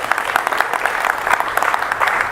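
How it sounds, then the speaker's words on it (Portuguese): An audience at a political Q&A event in Teixeira de Freitas, Bahia, breaks into steady, dense applause, the clapping even and sustained throughout without any speech. "ela tá a entender, puxando as palmas"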